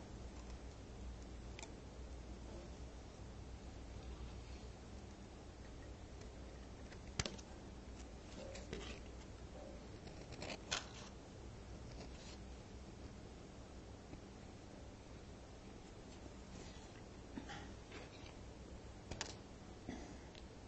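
Shrink plastic being trimmed for rings, likely with scissors: a few faint, sparse snips and clicks over a quiet, steady background hiss.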